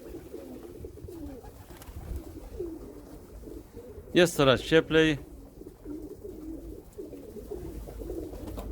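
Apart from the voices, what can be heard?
pigeons cooing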